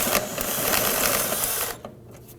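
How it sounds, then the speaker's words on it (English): Ratcheting wrench loosening a 10mm bolt on the fuel filler neck of a 2008-2011 Ford Focus, a steady close clicking rattle that stops abruptly near the end. "there's a 10mm bolt right here we need to loosen and remove"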